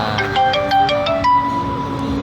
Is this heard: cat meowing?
no